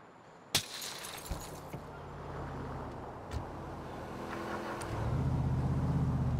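A car being stolen in Grand Theft Auto IV on PC: a sharp glass-breaking crack, a few smaller knocks and clicks, then an engine starting and settling into a steady idle rumble.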